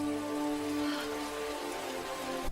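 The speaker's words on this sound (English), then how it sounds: "Rain." Steady rain falls in a film scene, a continuous dense patter heard beneath sustained musical tones.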